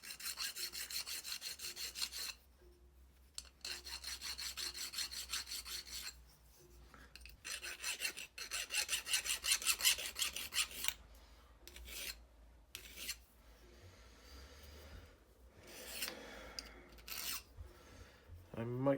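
A metal file rasps hard against rough second-hand metal during a locomotive build, in loud, close back-and-forth strokes that come in bursts with short pauses between them.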